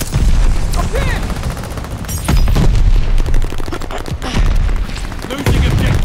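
Heavy gunfire from the video game Call of Duty Vanguard rattles continuously, with loud booming blasts from a grenade explosion and other impacts. Shouted voice lines from the game come through over the battle noise.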